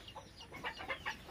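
Country chickens on a small farm clucking in a quick series of short, faint calls, several birds close together in a brief burst.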